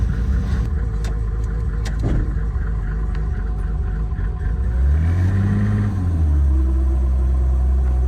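A Toyota Supra race car drives along a road in the rain, its engine droning steadily inside the cabin, then revving up and shifting with a deep rising and falling rumble.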